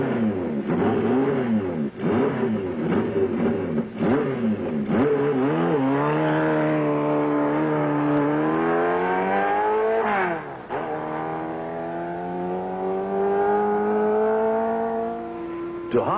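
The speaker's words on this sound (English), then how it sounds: "Duhamel takes the Z around the 2-mile oval wide open." Kawasaki Z1 Special motorcycle held wide open around a 2-mile oval, the engine screaming steadily with pitch climbing through gear changes, a brief dip mid-run before rising again.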